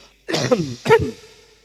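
Two loud, close coughs in quick succession, each short and rough, followed by a brief fading tail.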